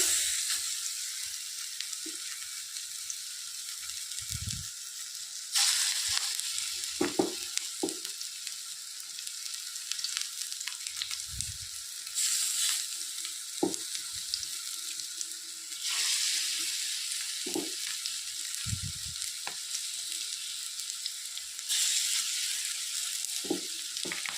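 Cabbage and coriander pakoras fry in hot oil with a steady, bright sizzle that swells each time more batter goes in. Soft clinks and stirring sounds come through now and then, and no voice is heard.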